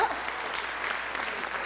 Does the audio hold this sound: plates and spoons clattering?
no